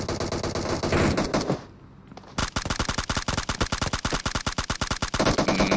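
Rapid automatic gunfire in the PUBG video game, with loud bursts, a brief pause, then a long steady string of sharp, evenly spaced shots close by, with no talk over it.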